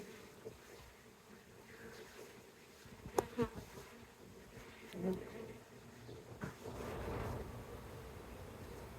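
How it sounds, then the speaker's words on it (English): Honey bees from a swarm rescued at Union Market in Washington, DC, buzzing in a steady, fairly quiet drone throughout, with a few brief handling knocks and no talk. "There's a drone bee"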